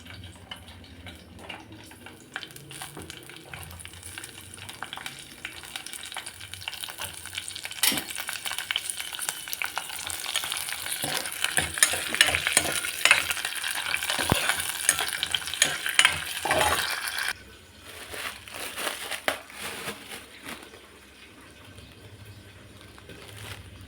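Green chillies fry and crackle in a hot pan while being stirred, a close, busy sizzle with scraping strokes that swells in the middle and settles quieter toward the end.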